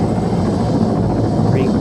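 A Marine Corps UH helicopter from the RHS mod in Arma 3 gives a continuous, close rotor and engine drone that holds steady beneath a person talking.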